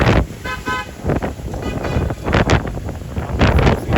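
Strong cyclone wind in Chennai buffets the microphone in heavy, uneven gusts and roaring blasts, with a voice faintly heard under it.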